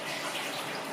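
Liquid, water or stock, pours into amber steamer pans for dumplings, making a brief, steady splashing gush with no voices.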